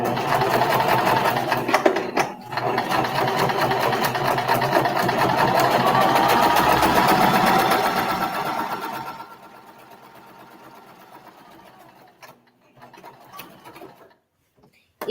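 A sewing machine stitches along the line of a foundation paper-pieced flower block at a very short stitch length, running as a steady close whir for about nine seconds, then stopping and leaving faint handling noise.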